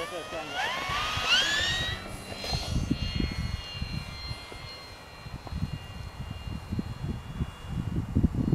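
A radio-controlled E-flite P-51 warbird model airplane with a 1.5 m wingspan flies overhead, its engine note rising and falling in pitch as it passes, steady and moderately loud throughout, with people talking over it early on.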